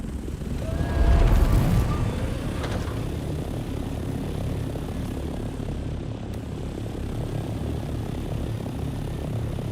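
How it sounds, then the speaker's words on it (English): A pocket copter in a video game flies with a steady propeller drone that surges louder around the second second, then holds a continuous engine hum to the end, with no voices. "It's my pocket copter."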